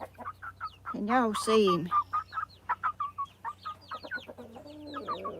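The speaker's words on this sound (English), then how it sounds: "I'll get y'all used to them other chickens some way." A chicken clucks up close in Georgia, with a run of quick, sharp clucks and a louder squawking burst, while someone talks over it.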